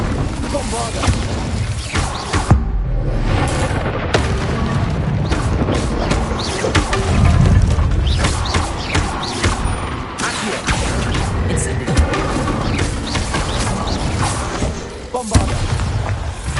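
Repeated Bombarda blast spells in the Hogwarts Legacy video game make booming explosions amid constant combat effects and clatter, with a voice speaking in parts.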